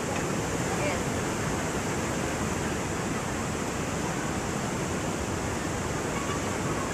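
Floodwater at Wawa Dam swollen by Typhoon Ulysses roars in a dense, unbroken rush, loud and constant like a waterfall.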